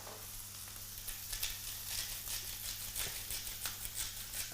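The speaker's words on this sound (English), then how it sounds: "Get that lovely sizzle." Pork chops seasoned with salt and pepper sizzle steadily in a hot frying pan, a continuous close crackle with a low hum underneath and brief spattering pops.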